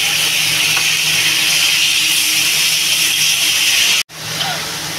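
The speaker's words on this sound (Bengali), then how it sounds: "ভালো করে এবার আমি এটা কষাবো" Tomato and spices sauté in a hot pan for a pabda fish curry, giving a loud, steady, close sizzle and hiss that briefly drops out near the end before resuming.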